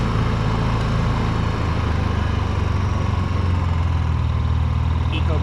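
A backup generator runs steadily with eco mode off and no load attached, giving a continuous, fairly loud low engine drone with a faint higher whine that stays even throughout.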